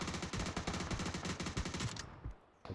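Rapid automatic gunfire rattles in the PUBG video game, a dense stream of close shots for about two seconds before tapering into a few scattered rounds.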